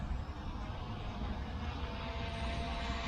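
D6 Pro brushless quadcopter drone hovering overhead, a steady broadband whirr of spinning rotors that holds constant and close throughout, with no talk.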